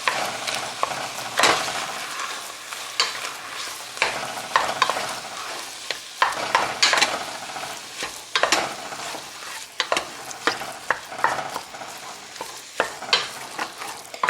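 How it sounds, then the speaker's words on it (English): Ground beef sizzles and fries in an old, sticky pot while a spoon scrapes and stirs it, giving repeated close scraping strokes over a continuous crackle. "So I'm just going to cook this up just like, regular ground beef"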